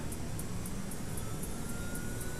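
Left engine of an aircraft spooling up at start, a steady broadband jet-like roar with a faint high whine, moderately loud and continuous throughout.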